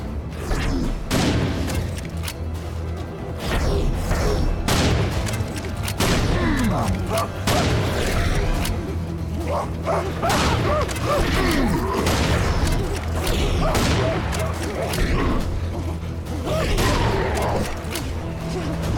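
Gunfire in Serious Sam 4: dense bursts of shots and heavy booms crowd together in a loud, chaotic firefight, with mechanical clanks mixed into the continuous battle noise.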